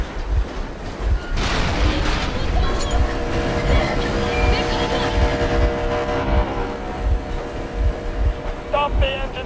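A train engine runs in the post-apocalyptic shooter Metro Exodus, a steady heavy rumble with a regular beat of low thumping pulses that carries on throughout.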